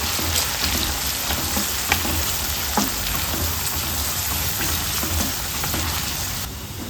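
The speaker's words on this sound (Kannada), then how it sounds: "ಅದನ್ನು ಸೇರಿಸ್ಕೊಂಡು ಚೆನ್ನಾಗಿ ಫ್ರೈ ಮಾಡ್ಕೊಳ್ಬೇಕು, ಬ್ರೌನ್ ಕಲರ್ ಬರುವ ಹಾಗೆ" Chopped onions frying in oil in a pan as they brown for rajma curry, a constant dense sizzle with light crackles and occasional stirring taps, no voices.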